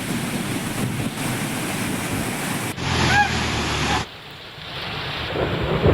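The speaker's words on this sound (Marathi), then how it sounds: "धरणाच्या दोन्ही दरवाजांमधून मोठ्या प्रमाणात पाण्याचा विसर्ग सुरू आहे" Water discharging through both gates of the Radhanagari dam in Kolhapur during heavy rain, a loud, constant roaring rush with shifting cuts in the texture as the scene changes.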